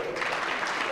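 A crowd applauding a shot at the 2024 Easton/Hoyt Pro/Am archery event: a brief, steady burst of clapping, with a commentator talking over it.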